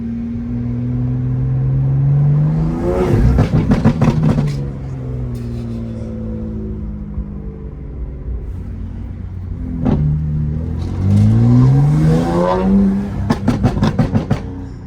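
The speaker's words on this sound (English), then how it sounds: "that car sounds like shit" A G87 BMW M2 with a Stage 2 MHD tune revs hard twice, pitch sweeping up with crackling bursts between pulls, loud and close, settling to a deep idle rumble in between.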